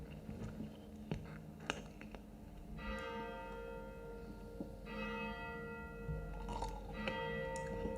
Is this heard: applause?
no